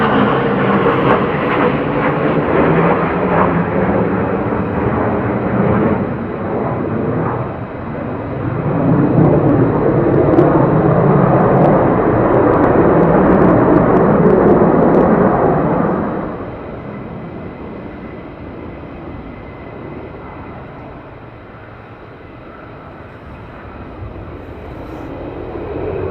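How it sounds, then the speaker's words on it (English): F-35 fighter jets fly past at RAF Lakenheath, a loud, sustained engine roar that builds to a peak around the middle, then drops sharply and fades to a lower distant rumble before rising again at the end. "There's your F-35s, guys."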